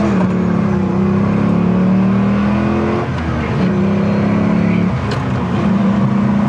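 A 2002 Pontiac Firebird Formula Firehawk engine hums steadily at a sustained drone on a test drive, with a brief shift in pitch midway, loud and close with no talking.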